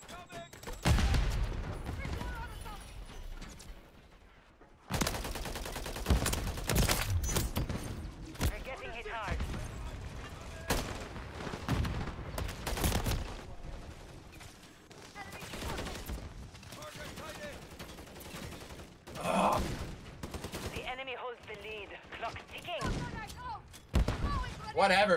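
Rapid gunfire in a Call of Duty Modern Warfare 3 multiplayer match, dense bursts of shots and thuds packed closely together, loud and near, with a player talking over the action.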